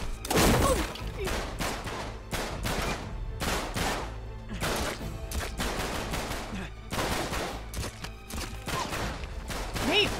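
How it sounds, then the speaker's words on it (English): Enemy gunfire in the Uncharted: Drake's Deception video game: repeated loud bursts of rapid shots and volleys, stop-start across the stretch, with a few faint voices underneath. "Why are you looking at the map while they're shooting?"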